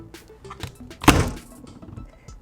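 Plum Paper planner pages pressed by hand onto Happy Planner discs, making one loud dull thunk with a short rustle, amid faint handling and shuffling noises.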